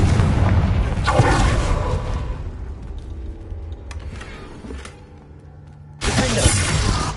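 A Confringo blasting spell in a wizarding video game lands as a loud shattering burst that rumbles off, then a second explosive crash hits near the end, with no talk over it.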